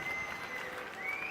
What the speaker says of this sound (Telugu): దానికి కూడా గట్టిగా చప్పట్లు కొట్టి అభినందించండి.